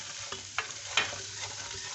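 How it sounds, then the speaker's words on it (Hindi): Spices fry in a pan with ginger and garlic, giving a soft continuous sizzle broken by a few quick stirring scrapes close up. "अब मैं इसमें मसाले डाल रही हूँ।"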